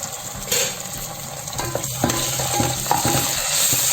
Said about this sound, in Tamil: இஞ்சி பூண்டு பேஸ்ட்டு 1 கரண்டி அதையும் போட்டு வதக்கிக்கலாம்.